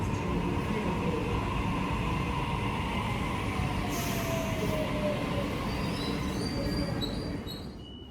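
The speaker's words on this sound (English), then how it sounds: "I'll be on this train all the way through to Leightonfield." A Sydney suburban train runs along the line, with steady rumbling wheels and track noise, a long squeal rising and falling midway, and the sound easing off toward the end; no talking.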